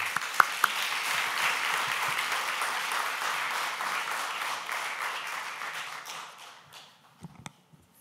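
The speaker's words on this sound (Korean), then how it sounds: "우리 다 같이 기쁜 마음으로 박수로 초대하였으면 좋겠습니다" Audience applause at a Korean church pastor installation service, welcoming the new pastor to the podium; sustained clapping from a crowd that fades out near the end, followed by a few faint taps.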